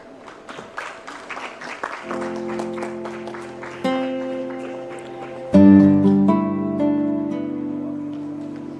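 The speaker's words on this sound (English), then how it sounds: "Let's give a big round of applause, all of you." Audience applause at a CSR and sustainability summit, steady clapping from a seated crowd that swells in intensity partway through, mixed with background music tones.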